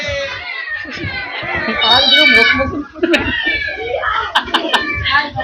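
At a church fellowship gathering for widows, a person imitates a cat with drawn-out, wavering meows, while other voices and laughter from the group mix in around the calls.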